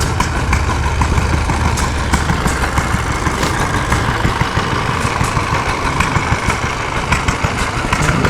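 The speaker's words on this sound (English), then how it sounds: "This is the Fairbanks Morris T 2 horsepower hit and miss engine." A Fairbanks Morse 2 horsepower hit and miss engine runs with an uneven, irregular chugging amid a dense, steady mechanical clatter, heard from moderately close with no voices.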